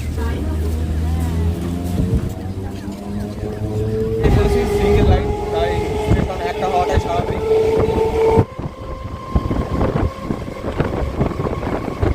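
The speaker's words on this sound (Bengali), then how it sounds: "বেরিয়ে গেল ট্রেন নব রায়নগর থেকে" A Ranaghat-Bongaon local train pulls out of Naba Raynagar station with a steady, loud rumble and a rising tonal whine that keeps shifting upward as it gathers speed.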